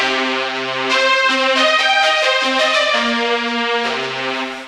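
A bright, buzzy synth lead recreating a sound from a song plays a sustained melody with a few note changes, loud and alone with no voices.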